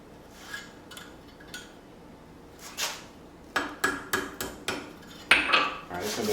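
Hammer blows strike hot steel shaped over an anvil horn for a forged necklace hanger, a few scattered strikes giving way to a quick run of sharp metallic rings, close and loud with no talk.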